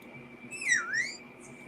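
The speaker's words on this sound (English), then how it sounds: "Listen to her whistle." A woman whistles a short rising-and-falling tune, two swooping notes close to the microphone, faint and alone against a quiet background hiss.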